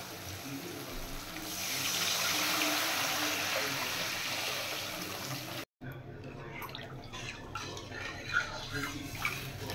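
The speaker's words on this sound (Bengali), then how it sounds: "এবার আমি জল দিয়ে দেব।" Water pours steadily into a pan of fried spice paste for a hilsa fish curry, a rushing, splashing wash, then stops abruptly; clinks and light handling sounds follow.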